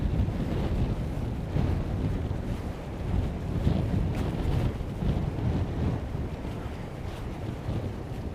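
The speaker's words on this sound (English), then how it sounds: "There's the crosswind again." A crosswind buffets a cyclist's microphone, a continuous low roaring rumble that swells and eases slightly without pause, loud and close, with no voices.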